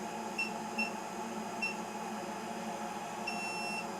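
Intermittent electronic alarm beeps from gasifier equipment signaling a low-flow fault, short high-pitched tones repeating irregularly over a steady mechanical hum, fairly faint.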